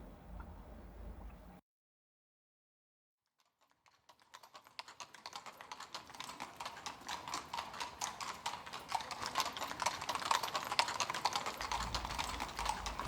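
Horse-drawn carriage in an audio drama, steady rhythmic hoof clip-clops that fade in after a brief silence and grow more distinct, with low rolling noise underneath.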